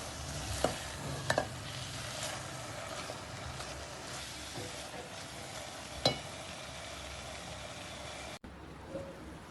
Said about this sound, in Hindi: इसको भी हम अच्छी तरह इसमें मिक्स कर देंगे